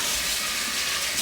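Lukewarm tap water gushes steadily from a faucet to rinse a paint roller, a loud, even hiss of running water filling the whole short stretch without pause.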